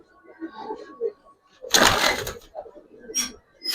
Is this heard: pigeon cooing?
yes